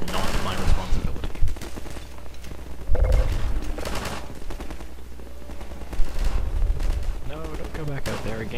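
Gunfire from the Half-Life 2 video game, with bursts of rapid shots and sharp single reports recurring over several seconds amid mixed game effects and a voice.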